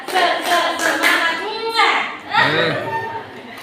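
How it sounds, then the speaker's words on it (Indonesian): A group of students chants and claps a rhythmic 'tepuk semangat' spirit clap during a classroom history presentation, the beats sounding as sharp pops among energetic, overlapping young voices. "Jadi tepuk semangat dari kami itu seperti ini."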